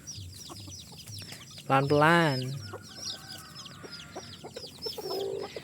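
Chickens clucking and squawking as a child catches them, with a sharp loud squawk burst near the middle and steady clucks around it, close by, while a person speaks briefly.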